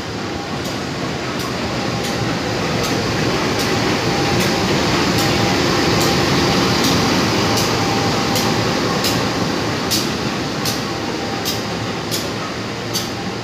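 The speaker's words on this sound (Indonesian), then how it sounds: "Jalur 4 masuk lokomotif." A steady, loud rumble of a locomotive arriving on track 4 at Depok KRL depot, continuous and close, with rhythmic faint clicks repeating over the low roar.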